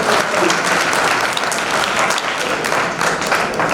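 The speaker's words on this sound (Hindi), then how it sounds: "इस पर सभी को एक बार फिर से तालियों के साथ आभार" Loud, continuous crowd applause at a Jangid Brahmin community Vishwakarma Jayanti gathering, thanking donors, with steady dense clapping throughout.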